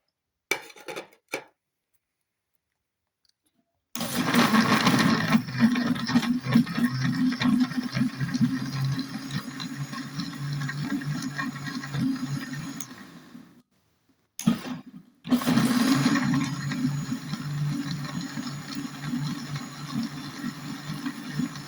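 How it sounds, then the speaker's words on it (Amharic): Electric blender grinding ginger with water and sugar for juice: a loud, steady motor whir in two bursts separated by brief pauses, with rattling chunks inside the jar. "ውሃ ጨምረን ትንሽዬ ስኳር ጨምረን እንፈጫለን።"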